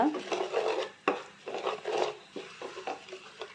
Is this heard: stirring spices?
yes